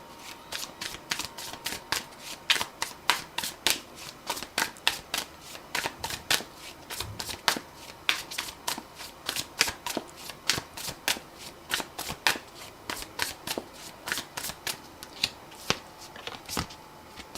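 Tarot cards are riffled and shuffled by hand in quick, crisp bursts, close and continuous, with a steady rhythmic flutter and no talking.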